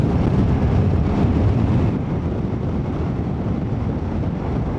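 Loud, steady rushing wind buffets the microphone with a continuous low roar that barely varies, at a riverside camping site in Marilaki.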